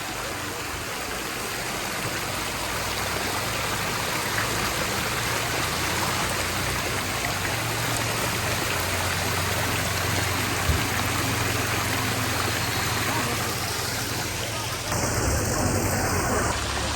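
Steady rain pours at the Manakamana cable car station in Nepal, a dense, even hiss that fills the whole stretch without pause and stays loud and close throughout.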